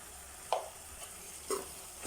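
A spoon scrapes and stirs tomato thokku as chili powder and fennel-cumin powder are sautéed in a pan, giving three short, separate scraping strokes over a faint, steady sizzle with no talk.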